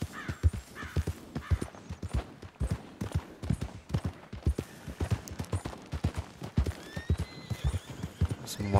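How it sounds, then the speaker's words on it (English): Horse hooves clip-clop steadily on the ground in Red Dead Redemption 2, with an occasional neigh among the rapid irregular footfalls as wild horses move nearby; a voice speaks now and then. "Some wild horses out here."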